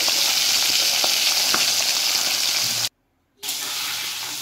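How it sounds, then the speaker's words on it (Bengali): Bata fish frying in hot oil, a loud, dense crackling sizzle up close with a few sharp pops, cutting out abruptly to silence for about half a second before the sizzle resumes. "সমস্ত মাছগুলো এবার আমি ভেজে নেব এক এক করে।"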